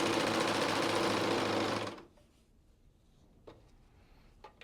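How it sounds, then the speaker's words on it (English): A Bernette b62/b64/b68 serger stitches fabric with its cutting knife engaged, giving a loud, steady mechanical whir that stops abruptly after about two seconds, leaving near silence with a few faint clicks. "I'm going to just stitch down a second side"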